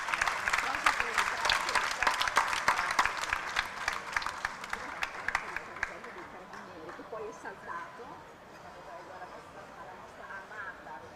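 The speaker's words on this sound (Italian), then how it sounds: "Un applauso a Clara." Audience at a presentation event for a horse show applauds with brisk, dense clapping that gradually fades out after several seconds, leaving quieter room sound and murmuring voices.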